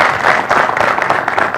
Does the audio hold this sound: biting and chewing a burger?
no